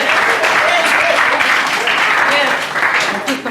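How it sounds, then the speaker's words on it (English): Sustained applause fills a residents' assembly general meeting, a dense, loud wash of clapping from the room running steadily throughout with faint voices mixed underneath. "applauding now"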